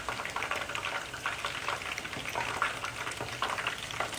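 Chicken pieces for sweet and sour chicken frying in hot oil, a steady, dense crackling sizzle that holds at an even level throughout with no voices.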